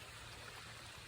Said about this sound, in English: Now it's just a trickle